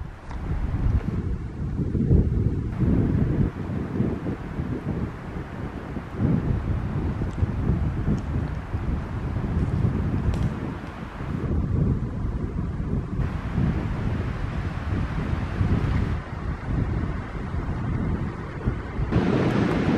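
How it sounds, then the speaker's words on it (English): Strong, gusty wind roars and buffets the microphone outdoors beside bent trees, a continuous loud rush with surging peaks and no talking. "This is a good example because we have a really high wind right now"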